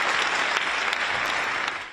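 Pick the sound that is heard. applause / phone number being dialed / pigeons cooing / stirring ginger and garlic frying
applause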